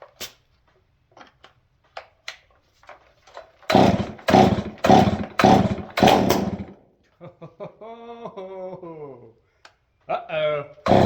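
A chainsaw fitted with a custom handmade exhaust revs in short, loud, sharp bursts, then idles unevenly with a wavering pitch before revving again, close and alone.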